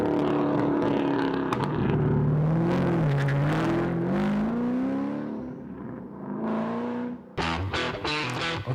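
A custom American muscle car engine revs hard, rising and falling in pitch as it climbs and drops. It ends in sharp, choppy bursts, loud and close, with no talking.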